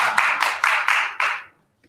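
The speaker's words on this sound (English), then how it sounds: "Please, no applause." Audience members at a Cape Coral city council budget workshop break into a brief burst of clapping, several quick overlapping claps lasting about a second and a half before cutting off into silence.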